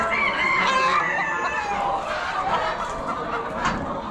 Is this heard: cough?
no